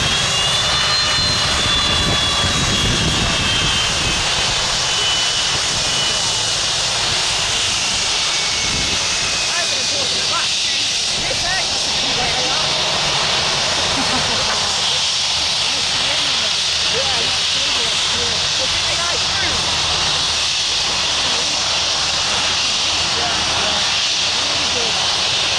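Airliner landing at Manchester Airport in a crosswind, its broad jet roar and high whine steady and fairly loud throughout, slowly fading as the aircraft passes.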